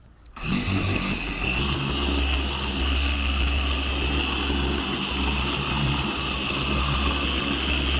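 A machine polisher whirs at higher speed on the paint of a Mercedes CLK500, a loud, steady, close droning hum with a broad rushing wash that runs unbroken after a quick start.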